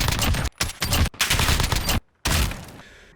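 Gunfire from the Modern Warfare video game comes in several loud, dense automatic bursts separated by short silent gaps, ending with a fading tail.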